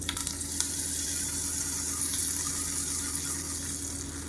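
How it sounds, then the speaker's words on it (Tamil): A steady, dense sizzle comes from mustard seeds, urad dal, red chillies and curry leaves tempering in hot oil for bajra dosai. It crackles continuously and fairly loudly, with no voices. "கடுகு, உளுந்து, வரமிளகா, கருவேப்பிலை போட்டு தாளிச்சதை கொட்டிடணும்"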